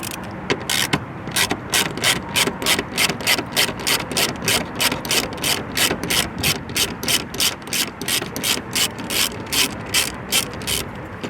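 A ratchet turning a 7mm socket backs out a 4.2 by 25 screw on a 2024–2025 Mustang, giving a long run of quick, evenly spaced clicks close up, with no talking.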